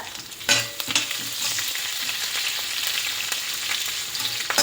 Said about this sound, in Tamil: பச்சை மிளகாயும் வரமிளகாயும் போட்டுட்டு கருவேப்பிலையை போட்டுக்கோங்க.